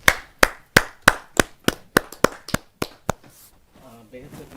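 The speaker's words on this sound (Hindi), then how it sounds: "आइए जोरदार तालियों से" A small group clapping at a Hindi poetry open mic, a dozen or so sharp, distinct claps in a quick rhythm that quickly fade out, followed by faint murmuring.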